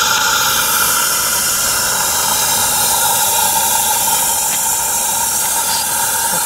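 A 40-horsepower live-steam garden railway engine built from a kit hisses steadily, a continuous close, loud broadband rush from the valve and burner with faint tonal whine running through it, no voices.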